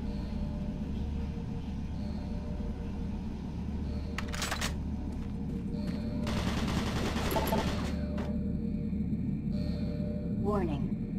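Automated turret guns in the Doom 3 game fire sharp rapid bursts against a constant low mechanical hum, with a short volley followed by a longer sustained stream of shots.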